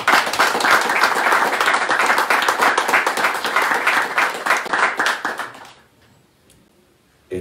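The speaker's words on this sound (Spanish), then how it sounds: "por lo que pido un fuerte aplauso" Loud, dense applause from an audience at a Titanes press conference fills the room for several seconds, then fades into near silence.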